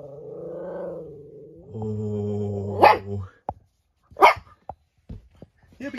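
A border terrier reacts to her own mirror reflection, starting with a whining, grumbling vocalization and breaking into a couple of sharp, close barks followed by short yips.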